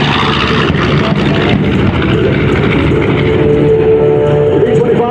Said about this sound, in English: Listen to the sound of those radial engines as she's on target for another bomb run